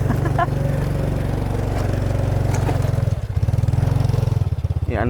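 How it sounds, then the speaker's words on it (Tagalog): A motorcycle engine labouring up a steep mountain road, a loud, close, chugging drone that stays heavy and strained throughout, with a voice talking over it briefly. "Hirap na hirap yung motor natin sa ganitong akyatan."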